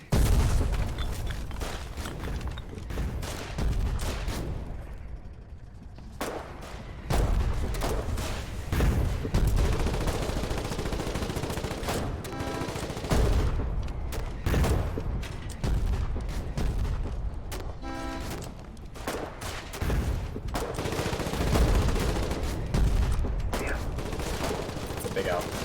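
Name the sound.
gunfire in the video game Foxhole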